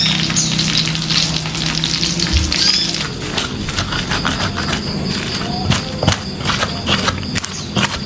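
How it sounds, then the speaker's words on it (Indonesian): Chili peppers fry for sambal in a pan, a loud, continuous close sizzle with bright crackling and spitting. Scraping stirs and occasional clinks run through it without pause. "Kalian goreng cabai buat sambal"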